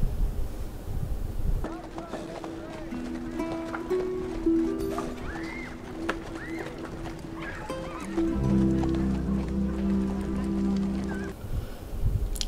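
Horses whinny several times over steady clip-clopping hooves and wind, with layered musical tones underneath, in a TV drama scene.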